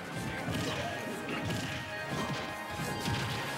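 Charizard's down smash attack in Super Smash Bros lands with a loud, crunchy impact over a dense wash of game noise and crowd sound, with a few heavy hits in a row.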